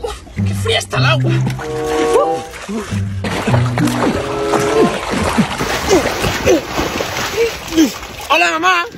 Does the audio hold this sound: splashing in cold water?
yes